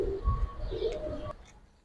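Soft, low cooing of Giribaz pigeons close by, a couple of short murmuring calls over light background rumble.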